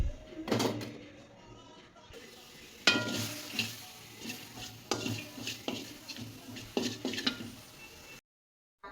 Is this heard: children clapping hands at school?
no